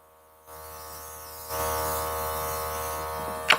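A makeup airbrush sprays foundation under the eye. A low electric hum starts first, then a louder, steady airy hiss of spraying runs to the end, with no talking.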